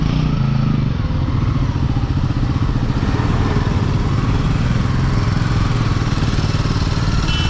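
A loud motorcycle engine roars steadily and close by for the whole stretch, a continuous heavy drone with a rattling edge and no pause or fade.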